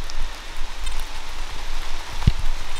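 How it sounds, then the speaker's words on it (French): Steady rain falls outdoors after a downpour, a soft, even patter of drops with one sharper nearby thud, moderately loud and without speech. "Après cette averse, il pleut toujours, mais beaucoup moins."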